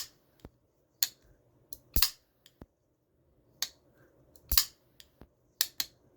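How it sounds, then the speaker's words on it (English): Zero Tolerance folding knife with titanium handles and an S35VN blade, its spring-loaded tab snapping out. Crisp, close metallic clicks and snaps land irregularly, about a dozen in all, against near silence. "you grab this tab, it's spring-loaded. So you pull back, and it swings out."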